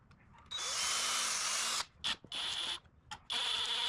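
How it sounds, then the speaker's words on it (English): Power drill boring pilot holes into wood, in three close bursts: a long whine, then a short pause, then two shorter runs broken by brief stops. "And now I can drill some pilot holes"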